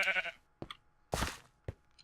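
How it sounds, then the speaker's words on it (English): A video game sheep in bloXCentric bleats in short bursts: one long bleat, then several quick ones spaced apart, moderately loud and close, with no talking. "I hear a sheep."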